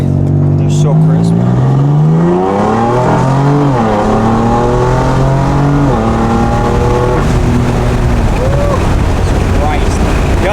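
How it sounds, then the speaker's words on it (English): A BMW F82 M4 with a new loud exhaust revs and accelerates close by, its engine tone climbing and falling through shifts with crisp downshift pops, while people talk over it. "The downshifts are crazy on this thing now."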